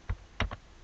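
A short burst of keystrokes on a computer keyboard while typing a Google search for Android, with three or four distinct close clicks spaced unevenly.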